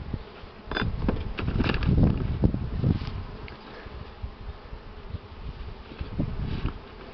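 Honey bees droning at a hive in spring while supers are being added, a dense steady buzz with louder swells as insects pass close, no voices.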